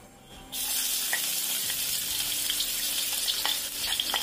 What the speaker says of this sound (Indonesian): Kita tumis bumbu yang sudah kita iris, bawang merah, bawang putih.